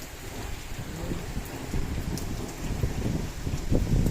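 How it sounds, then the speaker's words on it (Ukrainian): Steady rain pours with low rumbling thunder rolling underneath, a continuous outdoor storm over an orchard with no voices. "Гримить."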